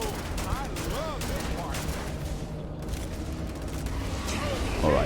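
Pistol gunfire in the Starfield video game, a run of sharp, rapid shots with clattering mechanical sounds and a louder burst at the end, with a voice talking over it.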